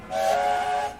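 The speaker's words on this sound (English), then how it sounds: "All the engines whistled cheerfully." Steam engines sound their whistles together in a cheerful chorus, a steady sustained tone lasting about a second, fairly loud and clear with no voices.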